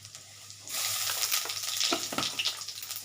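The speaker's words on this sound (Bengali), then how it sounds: "এর মধ্যে আমি একটু আস্ত সাদা জিরে দেব ফোড়নে এই এতটুকু দিচ্ছি সাদা জিরে" Whole white cumin seeds hit hot fish oil with a sudden broad sizzle that stays steady and close, crackling with small pops as the spices fry.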